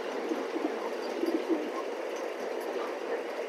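Racing pigeons coo softly and steadily in a loft. The sound is low, continuous and fairly faint, with no talk.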